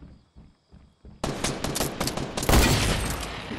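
Gunfire in the Fortnite video game starts after a few soft thuds, then bursts into a loud, rapid volley of shots that keeps going to the end.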